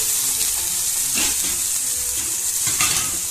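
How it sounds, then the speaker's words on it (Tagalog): Chicken pieces dropped into hot oil for adobo bring a loud, dense, steady sizzle close by, with brief surges as the meat is moved around the pan and no talking. "So ilagay na natin guys ang ating chicken."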